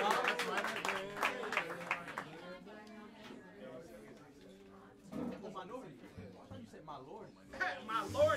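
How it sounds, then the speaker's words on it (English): An audience at Smalls Jazz Club in New York City applauds the upright bassist, a burst of scattered clapping that fades quickly, then faint patches of clapping return among voices in the room. "big round of applause for the great Jason Maximo Clatter"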